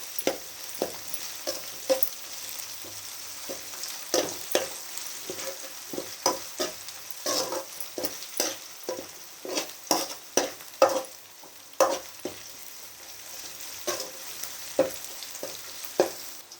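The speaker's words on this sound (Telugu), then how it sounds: "ఈ అల్లం వెల్లుల్లి పేస్ట్ పచ్చివాసన పోయేదాకా మనం ఆయిల్లో ఇలా ఫ్రై చేసుకోవాలండి." Ginger garlic paste frying in oil for a tomato curry, a steady close sizzle broken by frequent rhythmic spatula scrapes and taps throughout, with no voices.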